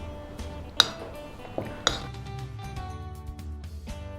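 A spoon mixes roasted palmyra sweet ingredients in a metal vessel, making close scraping and stirring with several sharp clinks of utensil against the vessel and no talk.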